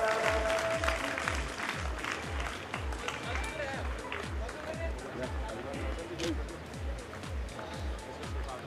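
An audience at a school sports competition opening ceremony claps in a steady, rhythmic beat to welcome guests, a dense crowd sound held for the whole stretch, with murmuring voices mixed in.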